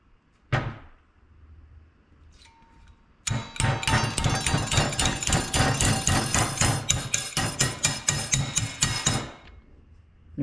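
Sharp metallic hammer blows bend a metal bracket for an oil cooler mount on a Honda CRX. A couple of isolated strikes come first, then a fast steady run of loud, close blows, then a pause and one last hit.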